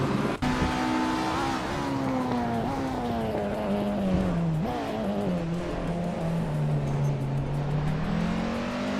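A 1993 Renault 19 races in a video game, its engine drone sustained and close, the pitch dipping and climbing with gear changes and throttle, alone with no voices.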